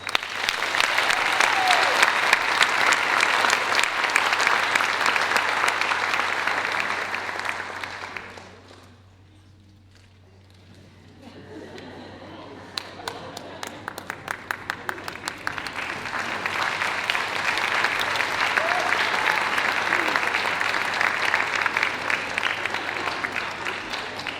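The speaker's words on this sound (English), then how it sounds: "One more round of applause, please." An awards-ceremony audience applauds in a dense, sustained burst that fades to near silence midway, then swells again with scattered claps into a second long round of applause.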